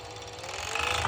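A sewing machine stitches a side seam of fabric for high-waisted bottoms, giving a brief, close, fast mechanical rattle that builds slightly in intensity.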